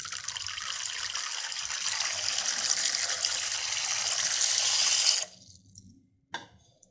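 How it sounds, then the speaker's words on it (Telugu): Running water splashes steadily into a container of toor dal lentils being washed for about five seconds, then stops abruptly, followed by a brief clunk. "కందిపప్పుని వాటర్లో వేసుకుని శుభ్రంగా క్లీన్ చేసుకుందాం"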